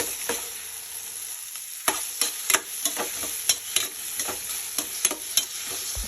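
Brinjal chutney mixture cooks in a pan with a steady background sizzle, punctuated by a regular series of sharp spoon scrapes and taps as it is stirred.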